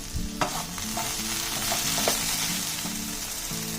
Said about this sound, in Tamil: ஸோ இங்கே வந்து வெண்டைக்காய் வெந்துட்டுருக்கு